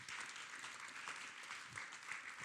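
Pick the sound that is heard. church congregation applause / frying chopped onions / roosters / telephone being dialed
church congregation applause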